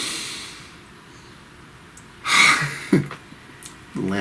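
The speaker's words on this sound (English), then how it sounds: "Please take a nice deep breath." A few short, breathy inhalations and exhalations over near silence, with a sharp snort-like breath in the middle.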